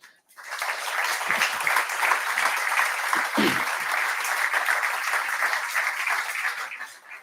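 An audience at a cycling race presentation gala breaks into sustained, dense clapping that fills the room at steady loudness for several seconds, with a few whoops mixed in, before tapering off.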